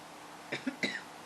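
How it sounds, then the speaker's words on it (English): Two quick coughs close to the mic, a short dry cough then a second, with a faint throat sound between them, in a quiet room. "I know I was going to start coughing."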